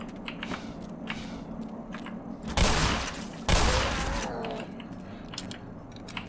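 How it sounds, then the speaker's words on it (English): Two loud shotgun blasts from the game Black Mesa, each a sharp burst followed by a short decaying tail, about a second apart, set against a low background hum. "I said shotgun, so the shotgun it is."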